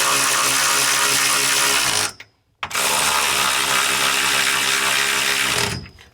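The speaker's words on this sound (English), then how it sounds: "Next, we're going to run these nuts down snug." Loud, continuous grinding whir of nuts being run down snug on a rear strut brace, with one brief stop midway before it resumes, close and steady throughout.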